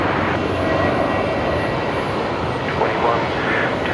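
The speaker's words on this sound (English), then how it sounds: "Qantas 125 rolling there on the Mac cam" A Qantas airliner rolls out at Brisbane Airport at night, its engines a loud, steady roar that stays constant throughout.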